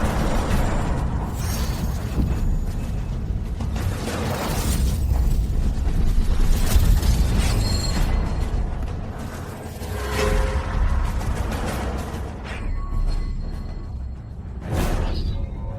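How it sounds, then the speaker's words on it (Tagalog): Fantasy sword effect for a god-killing blade in an animated series: a dense, roaring blast of noise with whooshing surges and booming bursts, sustained loud for about sixteen seconds with no speech. "Yan ang tunog ng totoong tabak na pumapatay sa Diyos."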